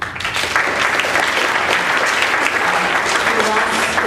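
Sustained applause from an audience at an atheist conference, dense steady clapping filling the room throughout with some voices mixed in.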